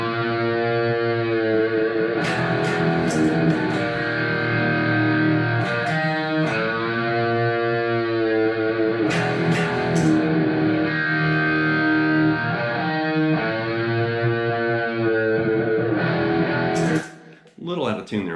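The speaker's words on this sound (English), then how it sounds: "But with the previous guitar part, it sounds like this." A distorted electric guitar plays a sustained riff with slightly out-of-tune bends and repeated chord stabs, loud and continuous, ending with a few scrapes.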